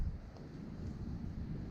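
Steady coastal wind rumbles against the microphone in a continuous low roar with no clear gusts, heard alone throughout.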